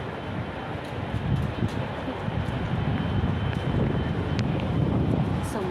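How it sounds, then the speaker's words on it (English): Wind blows steadily over a microphone outdoors on a walk, a loud continuous low rumble and buffeting that swells slightly midway and holds to the end, with no clear voices over it. "Oh, wow, I like the wind."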